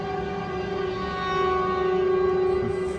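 A sustained train whistle sounds steadily, a loud tonal blare that swells slightly midway and carries on without pause.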